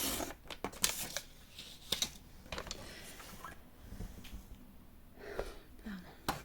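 Paper being cut with scissors for a three-compartment money box, a few sharp snips and tearing rustles close by, with short breaths in between.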